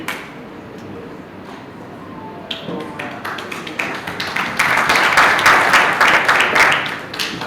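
An audience applauding at a banking and finance institute graduation ceremony, starting as scattered claps and swelling into fuller, denser clapping toward the end, with some voices murmuring underneath.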